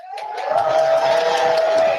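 A small crowd cheers and whoops at a live driver meeting in Springfield, Missouri, mixed with a steady tone and scattered voices, fairly loud and continuous.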